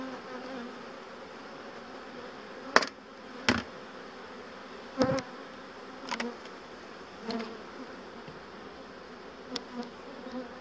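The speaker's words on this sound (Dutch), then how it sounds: "Ik zal deze bijen eventjes verjagen zodat ze niet geplet worden." Honeybees buzz steadily around an open beehive during an inspection, a close, continuous hum broken by a few sharp knocks and taps from the hive frames.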